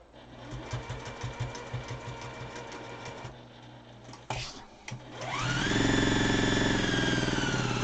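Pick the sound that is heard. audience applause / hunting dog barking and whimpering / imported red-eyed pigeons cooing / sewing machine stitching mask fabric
sewing machine stitching mask fabric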